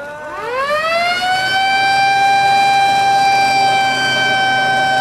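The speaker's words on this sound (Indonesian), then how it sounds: "bunyi sirine yang pada malam hari ini bergema di udara menandai dibukanya Musabaqah Tilawatil Quran tingkat Kabupaten" A loud civil-defense-style siren at night in Ketapang opens a regency-level Quran recitation competition (MTQ), its wailing tone rising steeply at first, then holding a steady, sustained pitch with strong harmonics, sounding alone.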